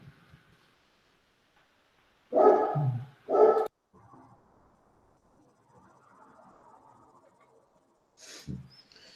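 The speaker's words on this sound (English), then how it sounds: "The dog." A dog barks twice in quick succession, fairly close and loud in an otherwise quiet indoor room, then gives one more short bark several seconds later, with faint background hum between.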